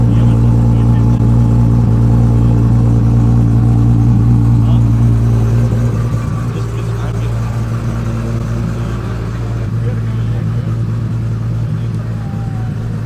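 A 2JZ engine in a Mk4 Toyota Supra fitted with a big 88 mm turbo holds a steady, deep, loud rumble throughout, a low throbbing drone at close range with people talking over it.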